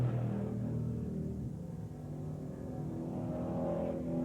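Street stock race cars from 1992 roaring around Brighton Speedway, a steady loud engine drone with rising and falling revs as the pack circles the oval, with no talk over it.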